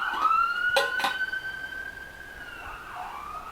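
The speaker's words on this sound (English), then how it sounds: "Ambulance going by." An ambulance siren wails steadily at a moderate distance, its tone sliding as it passes, with a couple of brief clunks near the start and no talking.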